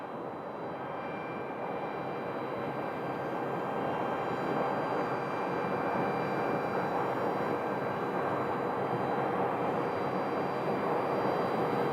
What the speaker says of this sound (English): It's a 737-700.